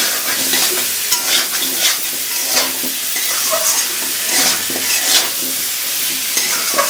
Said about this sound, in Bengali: এখন একটু ভেজে নিই ভালো করে